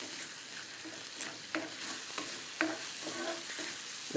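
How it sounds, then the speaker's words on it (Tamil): Mustard seeds and asafoetida sauté in hot oil, a constant bright sizzle broken by soft stirring scrapes and small pops, close and without voices. "கடுகு பொரிஞ்சதுக்கப்புறம் பெருங்காயம், இதனால் பச்சை வாசம் போகிற வரைக்கும் வதக்கினா போதும்."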